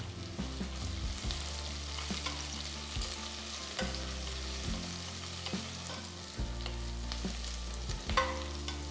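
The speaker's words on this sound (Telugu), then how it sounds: "ఇవి రంగు మారిన తర్వాత 2 చీల్చిన పచ్చిమిరపకాయలు కూడా వేసి వేయించాలి." Two slit green chillies fry in hot oil in a pan for biryani. A constant close sizzle with occasional stirring clicks plays over soft background music, and no one speaks.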